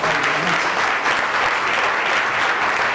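A church congregation applauds in a dense, even burst of clapping that holds steady for about three seconds.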